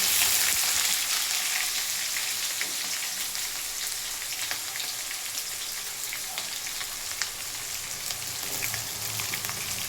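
Onions and curry leaves frying in hot oil in a pan for a bitter gourd gojju, a steady dense sizzle that holds loud and even throughout with no talking.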